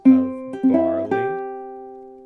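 A ukulele plays a few strummed chords from a song, close and clear, the last chord left ringing and slowly fading.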